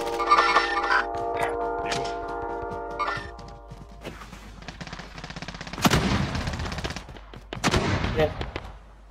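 Video game gunfire in Warzone: a burst of rapid automatic shots followed by heavier bursts and thuds, loud and close, mixed with game sounds and the occasional voice.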